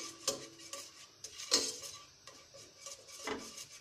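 A spoon mixes sizzler sauce in a pan with a little oil, making several sharp clinks and scrapes spread across the clip against a quiet background. The sounds are close and fairly faint, and nobody speaks.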